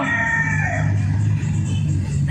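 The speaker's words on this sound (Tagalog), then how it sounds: "Ingay, ingay sa manok." Chickens cluck and call close by in a loud, busy stretch, a rooster-like cry rising over the flock's chatter.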